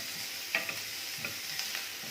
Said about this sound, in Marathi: आता हा कांदा छान परतून घ्यायचा या फोडणीमध्ये